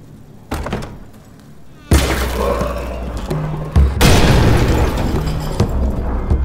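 In the horror video game Amnesia: The Bunker, a grenade trap goes off as a sudden heavy boom, followed by loud rumbling debris and a second thudding impact.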